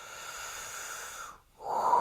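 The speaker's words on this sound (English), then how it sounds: "Breathe in." A slow, deep inhale during guided morning meditation, a steady airy breath held close for over a second before a brief pause and a louder rush of breath.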